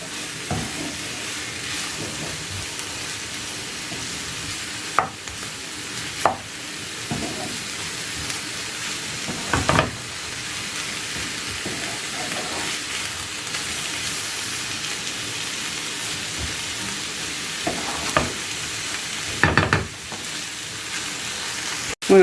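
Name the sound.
chicken with olives frying and being stirred in a pan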